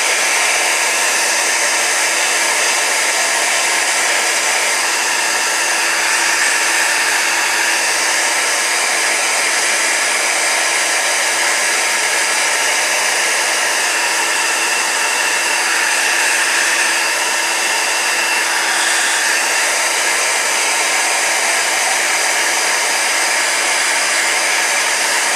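A heat tool blows steadily as embossing powder melts on cardstock, a loud, constant airy whir with a high hiss that runs unbroken throughout, close by with no speech over it.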